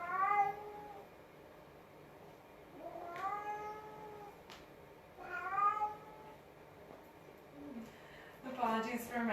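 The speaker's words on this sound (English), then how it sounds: "Apologies for my cat, she'll probably be making some noise here." A pet cat meows repeatedly indoors, three or four drawn-out, moderately close cries spaced a few seconds apart, with softer sounds between them.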